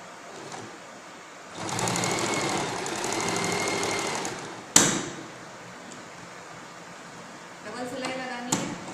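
A sewing machine stitches blouse front and back pieces together in a short steady run of a few seconds, surrounded by quieter handling sounds and a sharp knock.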